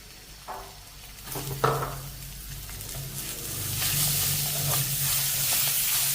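Onions and garlic sauté in a pan with a few clattering stirs at first, then a steady hiss of sizzling oil that grows louder and fuller, continuous and close.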